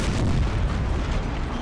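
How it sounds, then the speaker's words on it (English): Artillery fire in Napoleon: Total War, a dense rumbling battle wash of booms and bursts that stays loud and continuous for under two seconds with no speech. "what would this artillery be firing at?"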